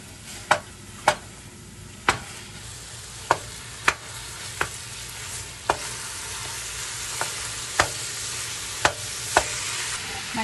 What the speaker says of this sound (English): I'm gonna put in 1 pound of ground beef. Break this meat up a little bit.